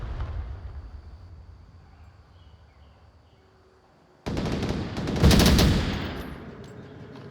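In the VR shooter game Onward, during a competitive league match, quiet background noise gives way to a sudden loud rattle of sustained automatic gunfire with a heavy burst in the middle, then fades.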